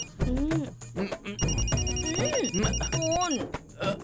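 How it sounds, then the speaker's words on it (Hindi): A telephone rings repeatedly in a comedic Hindi film scene, the electronic ringing tone steady through the middle of the clip while someone speaks loudly over it and music plays underneath. "फोन उठा"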